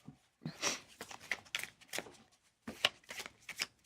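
A Magic: The Gathering deck being shuffled up close, with quick papery riffles and flicks in several short bursts separated by brief pauses, fairly quiet with no talking.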